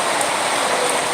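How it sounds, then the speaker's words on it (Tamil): Heavy rain pours in a steady, dense broadband hiss, close and loud with no pauses and no voices. "ஆனால் செம மழை, மாட்டிக்கிட்டோம்."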